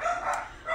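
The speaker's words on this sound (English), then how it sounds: "I apologize for my dogs." Dogs bark briefly indoors in a short, moderately loud burst, with a second bark near the end and no talking.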